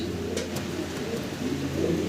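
A pair of fancy modern pigeons coo close by inside a clay pot nest, with low rolling throaty coos throughout and a couple of sharp brief clicks early on.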